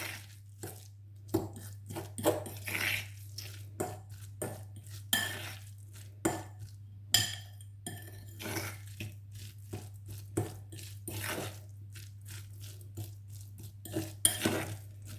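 Smoked paprika being stirred into a courgette fritter mixture in a bowl, the utensil clinking and scraping in steady, repeated strokes, close and fairly loud over a constant low electrical hum.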